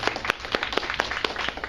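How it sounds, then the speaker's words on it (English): Brief applause from an audience at a public debate event, a short patter of scattered claps with no talking over it. "So a round of applause,"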